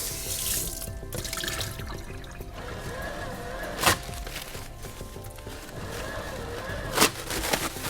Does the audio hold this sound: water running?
yes